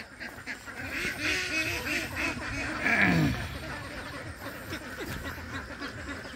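Pet ducks quack in a raspy, repeated chorus while eggs are gathered, nearby and fairly loud, with one stronger honking call midway and a person speaking faintly underneath.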